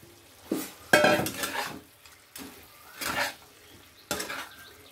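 Fried fish heads going into a pan of cooked vegetables for Bengali-style pui shak, with several scraping stirs and clattering utensil sounds against a soft simmer, repeating in bursts.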